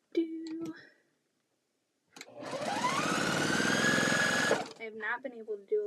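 A sewing machine runs steadily for a couple of seconds while piecing a quilt, a close whirring drone that ramps up and then stops, with someone talking just before and after.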